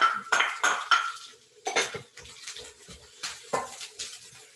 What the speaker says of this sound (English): I'm going to add 2 minced cloves of garlic